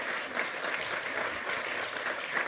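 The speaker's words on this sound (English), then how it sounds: "please, a rousing round of applause for these incredibly important members" An audience at an awards ceremony applauds in a dense, continuous wash of clapping that holds steady throughout, with no voices on top.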